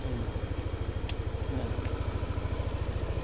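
Yamaha NMAX scooter fitted with a Techmax exhaust idling, a steady low putter of rapid even pulses from close range, moderately loud with no talk over it.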